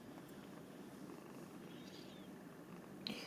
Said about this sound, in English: I can hear your cat, Tom